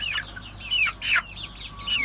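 Close, fairly loud peeping and clucking from young Turken, Ameraucana and village chickens, several rising and falling calls in quick succession over a faint background hum, with no talking.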